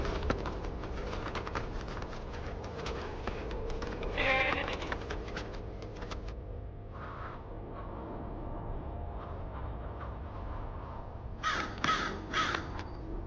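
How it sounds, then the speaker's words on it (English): Crows caw over a goat carcass left from a snow leopard kill in the Mongolian mountains, several harsh bursts near the end over a steady breezy outdoor background, with earlier scattered clicks and rustles. "Crows pick over the remains of a recent snow leopard kill, one of the nomads' goats."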